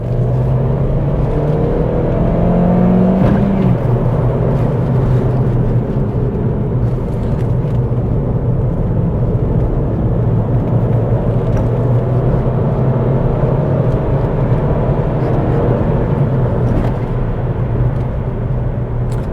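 Suzuki Swift Sport and Ford Fiesta S1600, both 1.6 naturally aspirated hatchbacks, driven hard, a loud continuous engine drone with rising and falling revs heard from inside the chasing car.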